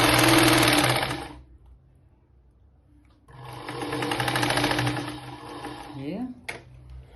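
A sewing machine stitches a blouse sleeve in two loud, steady runs of rapid mechanical chatter, separated by a quiet pause, with a short scrape near the end.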